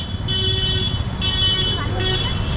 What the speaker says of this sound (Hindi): हॉर्न यहाँ पे भी बजा जा रहा है